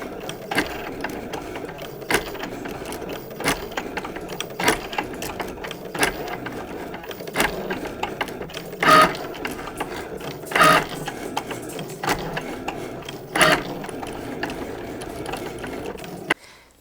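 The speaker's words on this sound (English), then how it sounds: "after the Cricut has drawn out our design" Cricut machine drawing a design with an infusible ink marker, a soft continuous mechanical whir broken by faint ratcheting clicks and a few brief louder motor buzzes as the carriage shifts.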